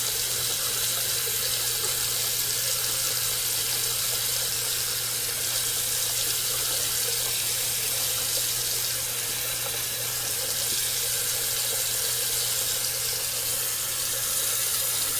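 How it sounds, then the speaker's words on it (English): Water runs from a tap into a bathroom sink in a steady, continuous hiss and splash, close and unbroken throughout, with no talking. "I'm just going to fill up the sink like I would in a hotel room"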